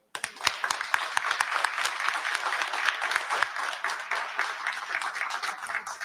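An audience claps for honorees at a St. Patrick's Day Parade press conference. Individual sharp claps stand out within a fairly close, steady round of applause that lasts the whole stretch.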